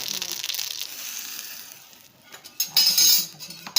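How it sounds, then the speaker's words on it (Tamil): Mustard seeds crackle and sizzle in hot oil, building to a louder burst of spitting and popping near the end. "தயிர் பச்சடிக்கு கடுகு தாளிக்க போறோம்."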